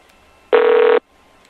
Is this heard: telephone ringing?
yes